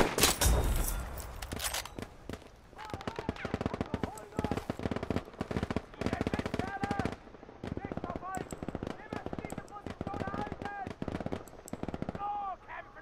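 Video-game enemies fire guns in rapid, sustained bursts of machine-gun-like cracks with scattered single shots, while a voice talks over the gunfire.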